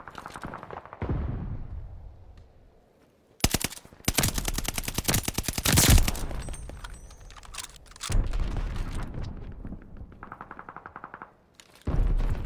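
Heavy gunfire in Call of Duty Vanguard, with bursts of close automatic fire and crackling shots that come in loud waves separated by quieter gaps, plus a booming impact.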